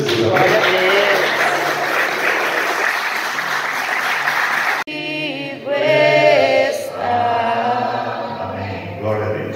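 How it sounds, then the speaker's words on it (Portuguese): A church congregation applauds loudly in a dense burst for about five seconds, then the clapping breaks off abruptly and a voice with music carries on over fading handclaps. "aplauda o nome do Senhor Jesus"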